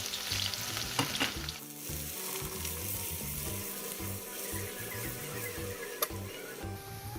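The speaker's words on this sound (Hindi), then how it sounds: "सबसे पहले मैं इसके अंदर प्याज डाल दूंगी" Onions fry in hot oil in a pan with a steady, close sizzle. Rhythmic scraping from stirring runs through it, along with a few sharp clinks of a spoon on metal.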